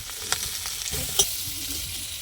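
Spices with ginger and chili paste frying in oil in a pan for a koi fish curry with raw banana and drumsticks, a continuous close sizzle with two sharp metallic clinks from stirring, no talk.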